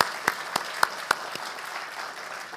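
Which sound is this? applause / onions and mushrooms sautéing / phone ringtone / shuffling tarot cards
applause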